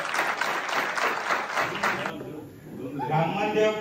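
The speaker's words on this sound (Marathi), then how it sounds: "जोरात टाळ्या वाजवायच्या." Audience at a temple bhajan competition prize-giving clapping loudly for about two seconds, then the applause cuts off and a voice over a PA takes over.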